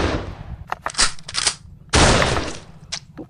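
A toy electric laser gun fires its sound effects: loud, rapid bursts of crackling, buzzing shots in irregular volleys, including one long sustained burst, with no talk over them.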